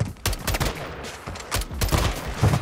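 Close, loud bursts of rapid automatic gunfire in Modern Warfare 2, fired from the hip in quick successive volleys with brief gaps between them.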